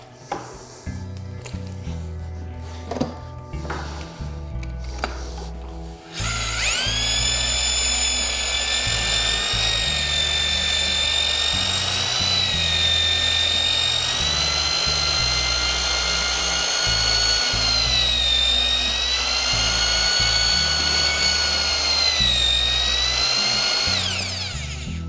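A drill mixer churns drywall mud thinned with water, starting after a few seconds of scraping and knocking, then running loud and continuous with a high whine that wavers slightly in pitch as the paddle works the mix.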